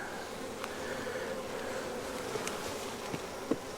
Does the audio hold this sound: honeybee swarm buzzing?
yes